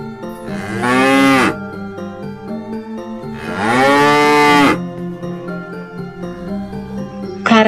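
Cattle mooing loudly and close by, two long drawn-out lowing calls with a pause between and the start of a third at the end, over a quiet backdrop of music.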